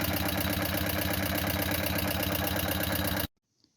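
A 2000 Buell M2 motorcycle engine idles while warming up with a possible lifter tick, a steady loud close rumble that cuts off abruptly near the end, followed by near silence.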